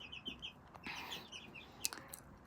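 Young chickens, half-grown and past the chick stage, make soft clucks and high chirps close by in short scattered calls, quiet and without talk.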